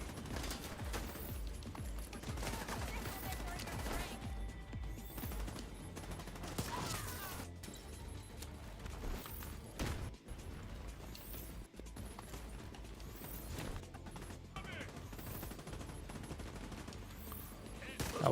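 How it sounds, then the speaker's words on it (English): Rifle gunfire in The Division 2, a continuous string of rapid shots and bursts running through the whole stretch, with occasional sharp single cracks standing out over the steady barrage. "One shot starts it. The second shot's your kill shot."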